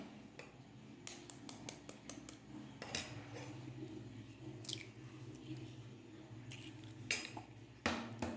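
Chicken is mixed by hand in a bowl with chilli powder, kasuri methi and two eggs, giving faint, wet squelching and squishing with occasional clicks and taps against the bowl.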